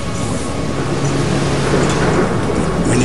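Heavy rain and rolling thunder out in the wilderness, a steady loud roar of downpour with low rumbling throughout, close and continuous with no voices.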